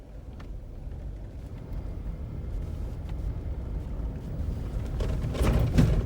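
A Jeep drives a rough mountain road on Skyline Drive, Utah, giving a steady low rumble of engine and tyres from inside that swells slightly toward the end.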